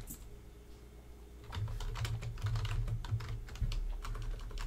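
Typing on a computer keyboard, with quiet soft key presses at first, then a steady run of close, fast clicks, and no talk.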